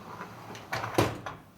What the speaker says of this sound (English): slide the rack in, and close the door